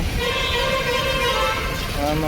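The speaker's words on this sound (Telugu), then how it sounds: "హారన్లు కొద్దిగా తక్కువ కొట్టండిరా" Vehicle horns, many from buses, blare continuously in busy night city traffic, loud and overlapping, with someone talking over the din.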